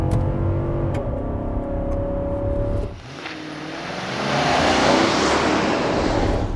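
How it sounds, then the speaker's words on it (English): A 2022 Infiniti QX80 accelerates hard under manual shifting: engine pitch climbs steadily, drops at a gear change around the middle, then swells into a louder, rougher roar. "I'm just going to mash it and do manual shifting."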